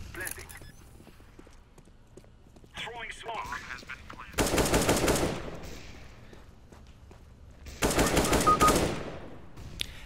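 Automatic rifle spray fire in the game CS:GO, two long loud bursts of rapid shots a few seconds apart, with someone talking quietly in the gaps between them.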